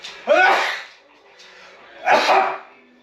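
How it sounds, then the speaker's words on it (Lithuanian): Two sharp sneezes burst out nearby, about two seconds apart, with quiet breathing between them. "Tėtis čiaudė."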